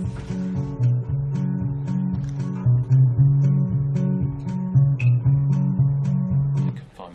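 A mixture of two guitars and percussion picked up by two microphones, a steady rhythmic pattern of low drum hits under sustained guitar notes, fairly loud and continuous with no talk.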